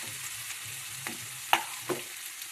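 Garlic-chili paste and curry leaves sizzle in a hot pan for a spicy Gujarati cauliflower-potato curry, a steady close fry broken by a few sharp stirring clicks and taps.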